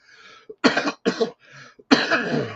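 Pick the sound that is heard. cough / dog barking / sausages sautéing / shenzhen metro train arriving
cough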